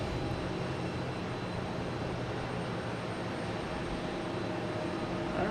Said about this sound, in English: There's the Lufthansa A380 heading to the downwind leg.